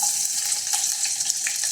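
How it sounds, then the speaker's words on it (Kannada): Mustard seeds splutter and crackle in a small amount of hot oil, a dense, close, steady hiss of tiny pops with no talking. "ಎಣ್ಣೆ ಬಿಸಿಯಾಗಿದೆ. ಸಾಸಿವೆ ಹಾಕ್ತಾಯಿದ್ದೀನಿ."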